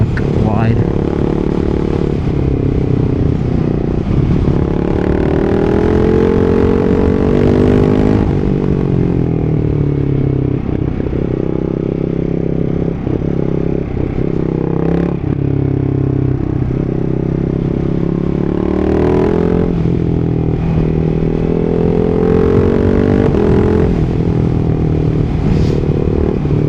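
A Ducati Hyper 698 fitted with a Termignoni full race exhaust, heard while riding: a loud, continuous engine drone with shifting pitch through gear changes, mixed with wind rush.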